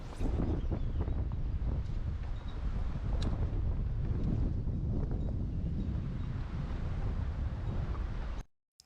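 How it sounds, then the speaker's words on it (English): Strong wind roars steadily outdoors, buffeting the microphone with a constant low rumble, then cuts off abruptly. "Now, guys, you can just hear that wind."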